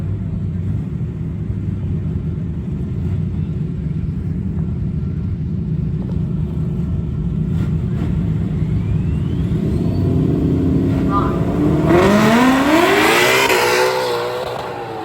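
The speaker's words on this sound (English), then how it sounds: "Late model Mustang taking on the Dodge Dart in the right-hand lane." At a drag strip, a 1968 Dodge Dart and a late-model Mustang idle with a low, steady engine rumble that swells near the end into a loud, rising roar of acceleration.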